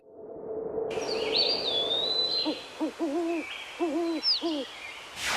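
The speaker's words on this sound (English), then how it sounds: "Today we are re-nesting a great horned owlet" A great horned owlet gives a series of short, close, mid-pitched hoots in quick groups, while thin chirps and whistles from other birds sound faintly in the background.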